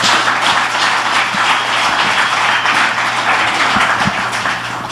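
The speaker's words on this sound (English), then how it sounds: "Let's give her a hand." A crowd applauds with steady, dense clapping that continues throughout at an even level.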